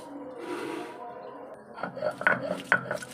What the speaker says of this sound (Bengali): এই যে পিষে নিচ্ছি, ভালো করে মিহি করে পিষতে হবে